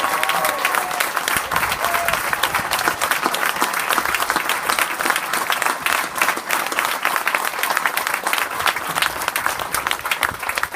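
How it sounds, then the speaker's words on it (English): Audience at a North Carolina governor's speech applauding Vietnam veterans, with dense, sustained clapping from a large crowd and faint voices mixed in. "they deserve a round of applause."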